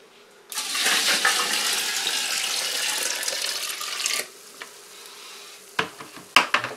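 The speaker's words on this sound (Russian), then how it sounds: "Следующим этапом мы выливаем сюда 10 литров тепленькой водички." Ten liters of warm water pour steadily into a container of plum mash for brewing plum spirit, a loud continuous splashing gush lasting about four seconds, then fading to a few faint drips and knocks.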